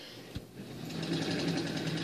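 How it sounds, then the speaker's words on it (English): An old Sewmor sewing machine stitches through a fleece-backed quilt, its steady mechanical whir rising and holding as it runs, close and fairly quiet with no talking. "This is just my old sewmor that I used to do my quilting on for machine quilting."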